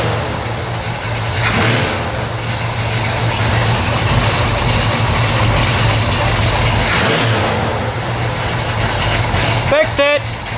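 A Pontiac 455 V8 with a new mechanical fuel pump runs loud and rough, holding a steady throaty roar with small swells of revving, close up. A sharp clatter comes right near the end.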